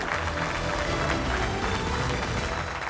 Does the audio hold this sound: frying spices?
no